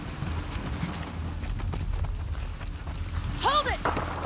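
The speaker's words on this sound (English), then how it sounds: "We can use that horse!" Horse gallop in The Last of Us Part II, a steady clip-clop of hooves running under game music, with a brief loud horse whinny near the end and some speech around it.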